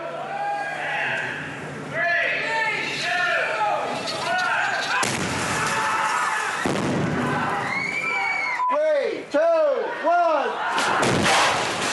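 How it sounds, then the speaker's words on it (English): An on-set film stunt explosion goes off in loud, heavy booming blasts and thuds, several in succession with sharp rumbling bursts near the end, amid crowd noise and voices. "You see the explosion, okay?"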